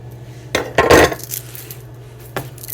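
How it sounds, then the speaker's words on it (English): A knife cuts a peach into small slices on a cutting board, making a few short, close knocks and scrapes with quiet pauses between them. "cut it in half and then cut it in half again and just cut little slices"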